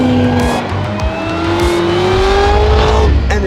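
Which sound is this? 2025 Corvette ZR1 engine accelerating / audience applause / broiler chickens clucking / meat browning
2025 Corvette ZR1 engine accelerating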